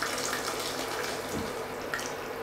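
Water streams into a pot over fish bits and orange zest for a French fish soup, a steady close pouring rush with small splashy changes, with no voices.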